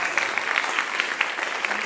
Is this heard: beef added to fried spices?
no